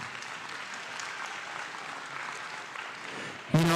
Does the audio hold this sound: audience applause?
yes